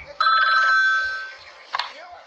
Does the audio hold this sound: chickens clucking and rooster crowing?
no